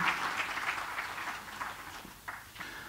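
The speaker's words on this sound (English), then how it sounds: "So please, a warm round of applause for him." Audience applause welcoming a speaker at a conference session, a soft, continuous patter of clapping from a mid-sized crowd that thins toward the end, with a few louder claps near the close.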